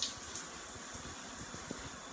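A shower runs with a faint, steady hiss of spraying water and a few soft splashes and drips.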